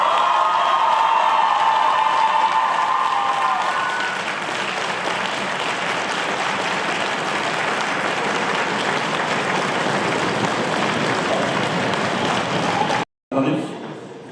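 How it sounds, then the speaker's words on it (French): Debate final audience in Lille applauding, sustained dense clapping with some cheers, loud at first and then steady for over ten seconds before a brief cut and a short final burst. "Vous pouvez vous applaudir."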